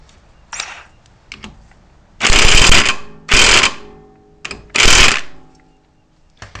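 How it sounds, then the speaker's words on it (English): An electric or air ratchet tightening a bolt on a GY6 scooter during slider weight installation, heard as three loud, close bursts of rapid rattling clicks, each about a second long, with quieter clicks in between. "and then using your ratchet, electric or air"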